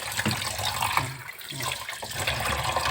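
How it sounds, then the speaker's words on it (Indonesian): Running water pours steadily over fish being rinsed, a close, continuous splashing and gushing from a tap with slight surges, no talk. "Nah, kita bilas dulu lagi, amisnya udah hilang."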